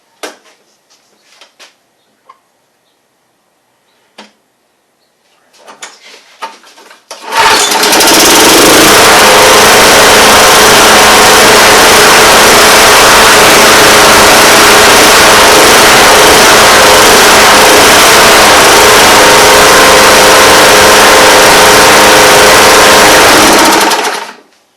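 A hard-to-start John Deere lawn mower, freshly given new oil and a sharpened blade, stays quiet apart from a few clicks and rattles, then its engine fires and runs loud and steady at close range for about seventeen seconds before cutting off.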